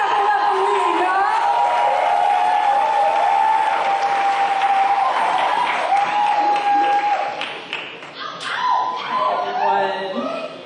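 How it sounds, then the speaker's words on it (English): A crowd at a Black farmers' food, land and resistance event applauds and cheers loudly and steadily as a speaker named Leah is welcomed to the stage, with whoops over the clapping before it thins out toward the end. "Clap it up for Leah, y'all."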